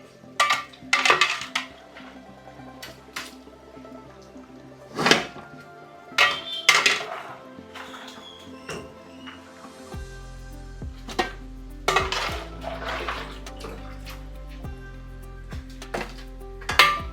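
Chicken that was boiled in a pot being drained, with repeated clanks and scrapes of metal pot and utensils, sharp knocks at irregular intervals over a low steady hum, close and fairly loud.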